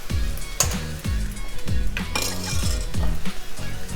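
Sweet Indonesian soy sauce and sambal stirred in a hot pan for fried rice, with repeated scraping and clinking of a utensil against the pan in an even rhythm over a soft sizzle, close and clear.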